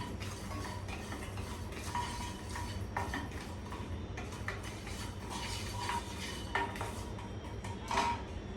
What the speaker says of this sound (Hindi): हम डालेंगे ये ड्राई फ्रूट्स, और इनको स्लो पे हम रोस्ट करेंगे।